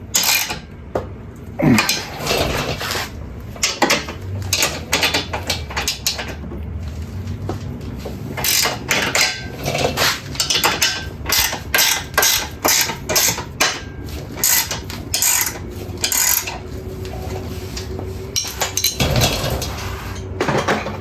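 Metal clinks, ratcheting and tool clatter come from bolts being snugged up on a custom Club Car golf cart airbag suspension kit, arriving in close, irregular bursts with short pauses and no talking.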